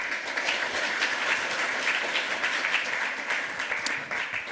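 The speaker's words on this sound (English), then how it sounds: "One last round of applause." Audience applause after a lightning talk at a hacker conference, steady dense clapping from a large crowd filling the whole span at moderate level, fading slightly near the end.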